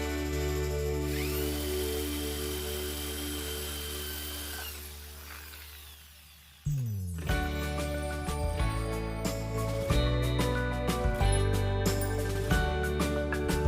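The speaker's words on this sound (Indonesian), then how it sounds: "membuat lubang pada kayu menggunakan mesin bor" A power drill boring a hole in wood whines steadily at high pitch, then cuts out and gives way to rough, clattering drilling bursts, close and loud, with no talking.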